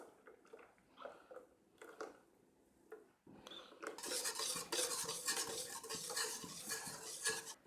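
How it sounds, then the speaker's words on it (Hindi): A whisk stirs chocolate pudding in a metal pot on the stove, starting with a few soft scattered taps and then turning into steady scraping and rattling against the pot for several seconds, close and fairly faint, with no talk. "लगातार विस्क चलाती रही हूँ"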